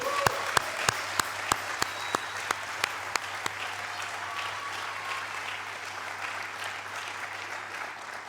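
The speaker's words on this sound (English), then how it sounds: "So please, a round of applause to your loved one." Audience applause at a GEMBA21 graduation ceremony, a steady wash of many hands clapping, with a few sharp individual claps standing out early on before the sound settles into sustained, even applause.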